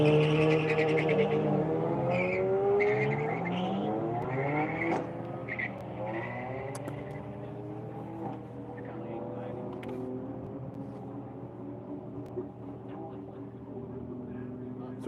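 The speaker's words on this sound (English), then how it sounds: "Now we got Brad Minton in the Also Ran Racing Mini with a 1540 dial in versus the BMW with a 1260 dial in." Engines of a Mini and a BMW roar off the line and fade during a drag race run at Quaker City, a steady, loud engine drone with a voice talking over it throughout.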